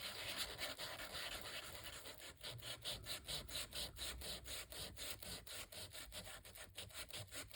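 Rhythmic back-and-forth scraping of sandpaper on wood, close and quiet, with repeated even strokes.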